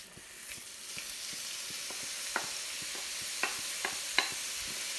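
Half a pound each of hot Italian sausage and ground beef browning in oil in a hot pan, a steady soft sizzle with occasional clicks of a utensil stirring and scraping, close and alone.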